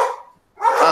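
A dog barks twice in quick succession, loud and close, with a short silent gap between the two barks.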